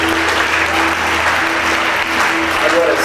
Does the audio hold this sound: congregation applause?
yes